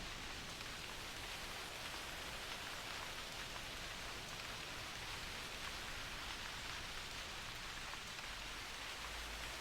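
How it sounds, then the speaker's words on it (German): Steady rain falling in the hunting game theHunter Classic, a dense even hiss of drops throughout, soft and continuous with no voices. "nur regnet doch noch, das finde ich immer gut"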